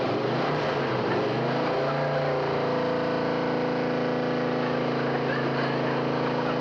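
A hot rod car engine revs up to 3,500 RPM, rising in pitch and then holding a loud, steady, slightly distorted roar from close by, with no talking over it.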